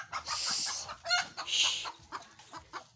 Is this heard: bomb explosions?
no